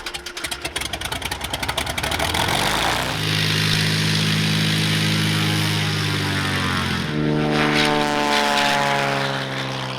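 A propeller aircraft flies over Kenya's Rift Valley, its engine droning loud and close after a rattling start. The drone rises and shifts in pitch as the plane climbs, steady throughout.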